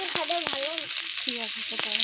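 Onion sizzles in hot hilsa fish oil in a pan, a steady hiss running under a few brief voiced sounds and light clinks.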